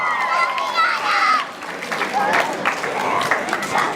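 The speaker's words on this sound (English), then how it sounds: "Let's give one more round of applause for your state championship volleyball team." A crowd at a high school ceremony applauds the state 2A champion volleyball team, clapping mixed with cheering voices and some children's chatter, dipping briefly before swelling again.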